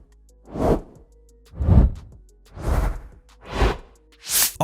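Five whoosh sound effects from a video editing sound pack play one after another at a steady pace, each a loud, close swell that rises and fades.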